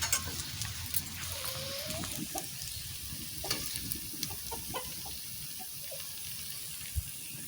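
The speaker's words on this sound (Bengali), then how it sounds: "মানে চালের গুঁড়োতে মাখাই তেলে ছাড়ে দেবা হয়ে যাবে" Bitter gourd leaf fritters, small leaves wrapped and coated in rice flour, frying in hot oil, with a steady low sizzle and occasional stirring clinks and bubbling pops, no talking.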